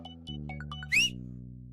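A short sharp whistle rises over a steady droning background, preceded by a few faint plucked-sounding notes; a single brief call.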